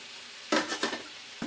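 Ground beef and sausage cook in a pan for lasagna while being stirred and broken up, giving a few short scraping and sizzling bursts over a quiet background, with no talking.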